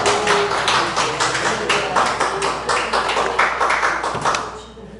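An audience claps together during a talk about microschools, a loud, dense burst of hand clapping that holds steady for several seconds before tapering off.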